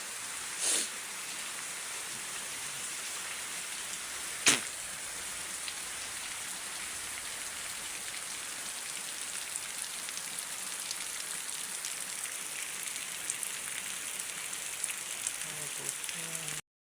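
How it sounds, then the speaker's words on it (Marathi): Steady unseasonal rain in the Konkan countryside patters continuously on a surface, a dense even hiss with a couple of brief louder knocks. "पाऊस झाला"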